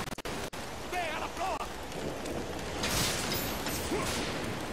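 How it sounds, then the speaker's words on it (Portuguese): Rain storm effect in God of War: Ghost of Sparta, a continuous hiss of rainfall with a swelling burst of noise midway and a few short game cues, steady and fairly loud. "Efeito de chuva. Tá vendo?"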